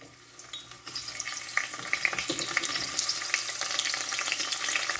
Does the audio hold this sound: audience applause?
no